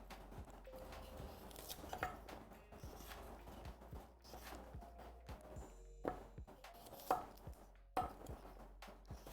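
A knife chops fresh vegetables for a coconut carrot ginger soup and green goddess salad, crisp irregular taps on a cutting board, close and fairly quiet, with occasional louder cuts.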